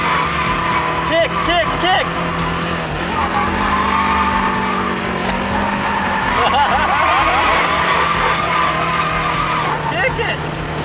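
Tires squeal and skid continuously as a drift car has its clutch kicked to smoke the tires, the engine roaring loud and close throughout, with repeated chirping squeals and people shouting excitedly over it.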